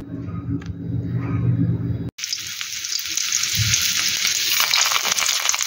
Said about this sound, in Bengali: এবার একটু এরকম করে নিয়ে নিয়ে কড়াইয়ের তেলে ভাজবো